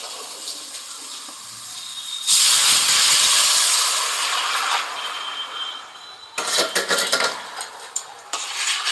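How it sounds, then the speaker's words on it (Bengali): Water is drained off from pulao rice, first a soft trickle, then a loud, steady hissing pour for a couple of seconds, followed by splashing, dripping bursts, no talking. "এবার পোলাও থেকে আমি ওই জলটা ফেলে দিচ্ছি"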